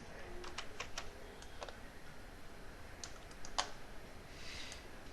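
Scattered keystrokes tapped on a computer keyboard, quiet and fairly close, in irregular short bursts with pauses between them against a faint background hiss.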